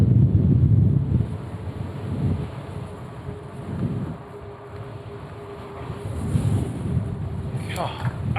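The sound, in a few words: strong wind blowing on beach road while cycling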